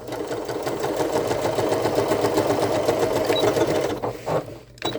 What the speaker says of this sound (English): let's go ahead and do those top stitches quick